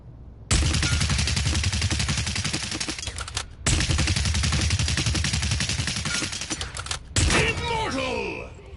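Sustained automatic gunfire in the video game Paladins, fired in three long loud bursts separated by short gaps, each a dense rapid stream of shots, with a voice speaking briefly near the end.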